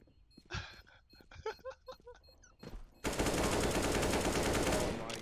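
A long continuous burst of MP7 submachine gun fire in a competitive shooter video game, loud and steady for the last two seconds after someone speaks excitedly.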